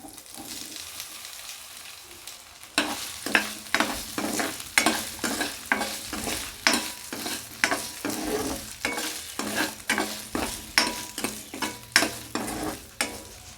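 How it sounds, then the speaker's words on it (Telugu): Potatoes fry in a pan under a steady sizzle while a utensil scrapes and stirs in a regular rhythm of repeated strokes, close up and with no voices. "పొటాటోని ఫ్రై చేసుకుందాం"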